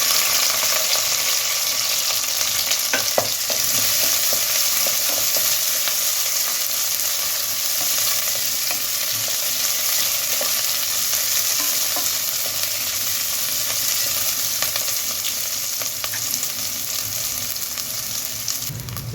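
Curry leaves crackle in hot oil alongside onions, garlic and green chillies for a ridge gourd and chana dal curry, a loud, dense, unbroken sizzle lasting many seconds with occasional faint stirring knocks.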